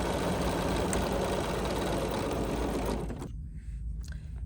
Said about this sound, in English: by just starting to sew, by pushing your foot on the foot control